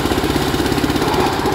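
A 241 tractor engine running in gear in a Haryana village, a steady loud close throbbing chug with a constant rhythmic pulse and no break, no voices heard.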